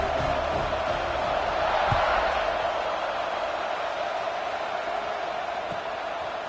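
Stadium crowd roar in a college football video game against Georgia, a steady wide wash of distant cheering with a brief swell, no close voices.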